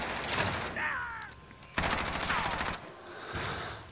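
Bursts of rapid video game gunfire, loud machine-gun style volleys separated by short pauses, with people talking over the shooting.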